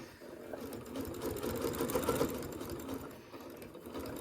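A sewing machine runs steadily while stitching a drawstring bag, a fast continuous whirring hum that rises slightly in the middle and eases off near the end, close and alone.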